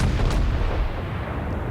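Warship rear gun turrets firing at long range in a naval video game: a heavy booming blast at the start rolling into a sustained deep rumble that slowly fades.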